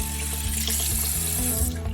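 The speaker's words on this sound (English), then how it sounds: "Put it under water to wet it." Cold tap water runs steadily over a melamine sponge into a sink, a close, continuous splashing rush with no one speaking.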